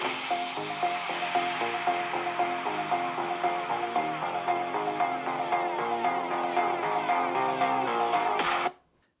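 Music plays at half volume from the AKG four-speaker system of a slim Samsung Galaxy Book4 Pro 14-inch laptop, steady and fairly loud, then cuts off abruptly near the end.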